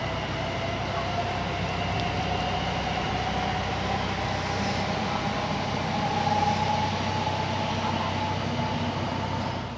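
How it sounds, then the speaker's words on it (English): A train rumbles past at a distance near a city waterside mooring, a steady broad low roar holding evenly for about ten seconds with faint tonal whine, no voices. "Oh, and there's that train again"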